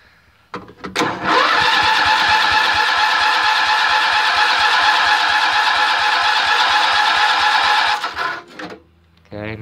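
A John Deere 111 lawn tractor engine on choke cranks briefly, catches and runs loud and steady at close range with a rapid, even putter for several seconds before cutting out.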